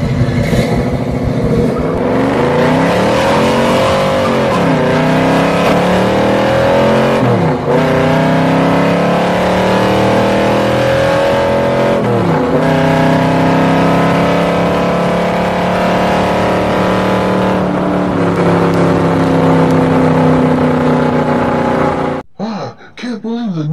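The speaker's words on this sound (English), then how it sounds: "Beat the Dodge Charger with his 1970 Chevelle" A 1970 Chevelle and a Dodge Charger drag race, engines roaring loud and sustained with rising and falling revs as they accelerate, nearly the whole stretch before cutting off abruptly near the end.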